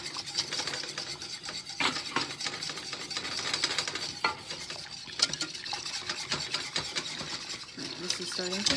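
A whisk scraping and stirring steadily through a thickening turkey pot pie sauce in a pot just off the burner, with close, continuous rhythmic strokes and the odd clink against the pan.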